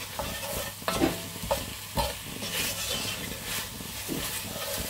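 Onions and vegetables sauté in a hot pan, a continuous sizzle with several clacks of a utensil stirring and scraping at uneven intervals, no voices.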